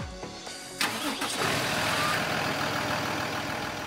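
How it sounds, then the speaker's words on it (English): A diesel car engine cranks briefly, then catches with a sharp burst and settles into a steady, loud idle rumble that continues close by. "Start your engine."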